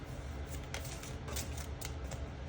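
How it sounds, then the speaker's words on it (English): Cards riffle and flutter in quick, light bursts, a soft papery shuffling close by. "Let's just shuffle out a few."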